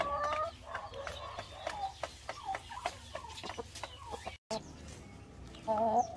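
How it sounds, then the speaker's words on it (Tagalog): Rhode Island Red hens on a backyard farm cluck and murmur close by in short, irregular calls, with a brief cut in the middle and a louder burst of clucking near the end. "So eto na yung mga Rhode Island Red natin kay Locano, yan o."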